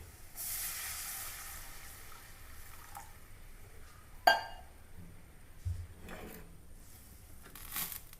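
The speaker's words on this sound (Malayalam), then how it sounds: "മുളകൊക്കെ ഒന്ന് മുരഞ്ഞിട്ടുണ്ട് വെള്ളം ഒഴിച്ച് കൊടുക്കാം" Water poured into a hot pan of sautéed shallots and chilli for a small-fish curry, a soft hissing sizzle with a sharp splash and steam bursts, fairly faint and close.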